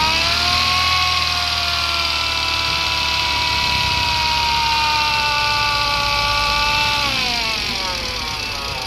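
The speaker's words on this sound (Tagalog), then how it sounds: "Compressor idol ang maingay. Compressor mo." An air compressor in an auto repair shop working on a Kia Rio runs loud and steady, its droning whine holding for the whole stretch and dipping slightly in pitch near the end, with no talk over it.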